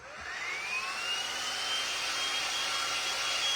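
A heat gun blows close and steady, drying paint on a Christmas decoration, its airy whoosh rising in pitch as the motor spins up into a continuous whine, no talking.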